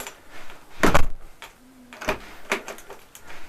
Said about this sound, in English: and the door shuts perfectly.